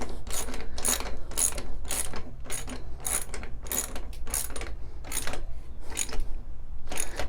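Bike wheel axle nuts being tightened with a wrench during a tire and tube change, a steady run of sharp, evenly spaced ratcheting clicks, close and fairly loud throughout.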